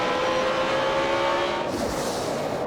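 NASCAR race cars, including Carl Edwards' 99 car, roaring at a restart at Atlanta in 2005: a steady, loud wall of engine drone with a sustained tone, shifting slightly as the field picks up speed.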